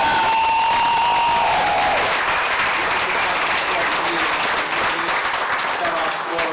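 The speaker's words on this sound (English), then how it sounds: "we really need to give a big, wild, and crazy round of applause for Roger and Damon" A large audience at an indie soap opera awards show breaks into loud, sustained applause with cheering and whoops, a dense continuous wash of clapping that holds steady throughout.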